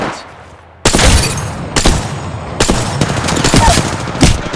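Rapid automatic gunfire during an Apex Legends battle royale match arrives in loud, close bursts after a brief quiet lead-in, with several sustained volleys crackling over one another.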